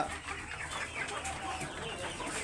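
A black hill-crested bare-neck rooster and other fowl on a farm give close clucking calls in a busy, continuous chorus with no talk.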